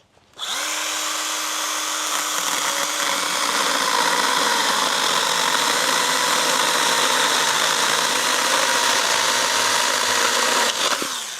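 A chainsaw engine, freshly topped up with chain oil and its chain adjusted as loose as it will go, starts up and runs at a steady, loud, high-pitched buzz for about ten seconds before cutting off, with no talking.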